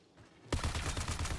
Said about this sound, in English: I heard the shooting inside, so I knew there was at least one person